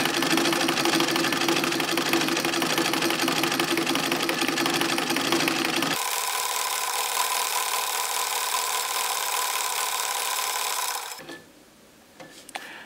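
A 1908 Singer sewing machine filling its bobbin, a loud close rapid mechanical whirring that drops in pitch partway through, then winds down and stops near the end, with no talk.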